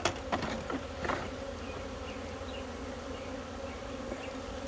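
Honey bees buzz steadily around an opened hive during an inspection, a close, even drone with a few sharper passes near the start and no talking.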